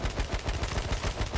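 Rapid automatic AK rifle fire in a video game, a fast steady train of loud, close shots with roughly a dozen evenly spaced bursts, heard alone.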